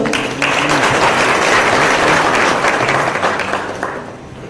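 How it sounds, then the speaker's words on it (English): An audience at an event with the Madhya Pradesh Chief Minister in Pune bursts into loud applause, many hands clapping together in a dense, sustained roar that gradually tapers off. "A big round of applause, sir."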